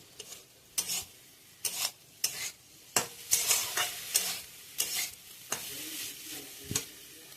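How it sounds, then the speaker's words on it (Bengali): Three slit green chillies go into a hot pan and fry with a steady sizzle, while a spoon stirs and scrapes the pan in regular, sharp clinks heard close up without talking. "এতে আমি 3টে চিড়ে রাখা কাঁচা লঙ্কা অ্যাড করছি।"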